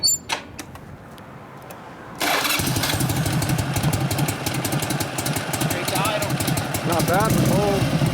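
A 1965 Harley-Davidson Panhead FLH with a 74-cubic-inch engine and Linkert carburetor cranks and catches, then settles into a loud, steady, lumpy idle while cold, with a voice talking over it.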